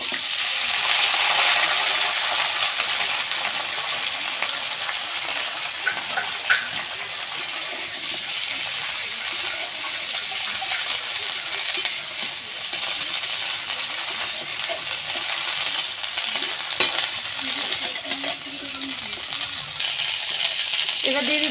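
Chopped, washed bottle gourd leaves cook in a hot pan, giving a steady, close, bright sizzling hiss that runs on evenly with small crackles and stirring scrapes.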